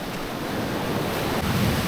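Steady wash of surf rolling in, a continuous broadband rush with wind buffeting the microphone throughout.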